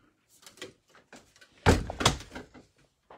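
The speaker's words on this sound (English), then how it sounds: "Let me close this door." A door swung shut in a house, a few soft handling knocks followed by a firm thud and a second bump, close and moderately loud.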